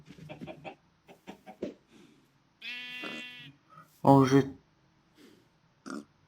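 Minecraft farm animals, cows, pigs and chickens, from the video game: a sheep-like bleat and a loud clucking burst stand out between short spoken phrases, with one more faint animal call near the end.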